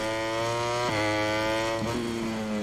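Ducati MotoGP bike engine in the MotoGP 22 racing game, a steady high-pitched drone that shifts pitch abruptly twice as gears change, loud and continuous with no talk.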